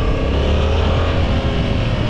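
A Yamaha R7 motorcycle with a CP2 parallel-twin engine runs steadily while being ridden, a loud, continuous drone with a constant low hum and no talking.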